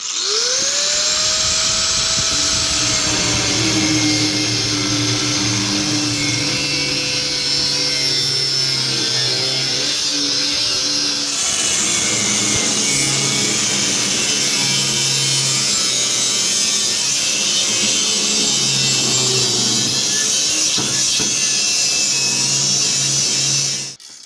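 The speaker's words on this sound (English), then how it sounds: "So I'm going to cut through here, cut through there, cut through there" A power saw or grinder cuts steadily through a custom AJS chopper motorcycle frame at the headstock, a loud continuous whining and rasping drone that holds for the whole stretch with no talk.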